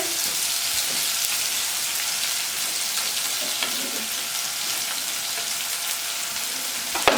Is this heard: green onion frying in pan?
yes